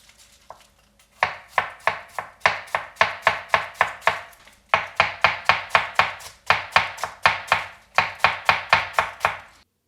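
A knife thinly slicing cabbage on a cutting board in a home kitchen while chicken katsu is being made: a fast, even run of crisp chops, loud and close, broken into several bursts by short pauses, with no talk.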